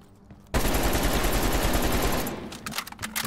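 Sustained automatic gunfire from Call of Duty: Black Ops Cold War, a loud continuous burst lasting about two seconds, then tapering into scattered shots and faint game sounds.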